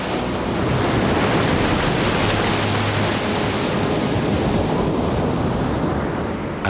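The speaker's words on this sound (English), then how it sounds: "A constant stiff wind and wild waves attract kite surfers from around the world to this historic coast." A stiff wind and rough surf on the stormy Costa de la Luz coast make a loud, dense roar. Wind buffets the microphone constantly and breaking waves rush in beneath it, with no voices heard.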